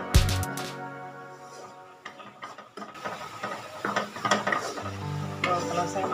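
Hot water stirred into a pot of cooking pounded cassava leaves, giving irregular scraping and sloshing with a faint sizzle, over a steady background tone and intermittent clinks.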